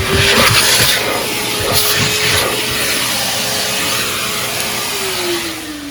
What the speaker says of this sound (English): I'm pretty sure that we're gonna have to vacuum it a couple more times.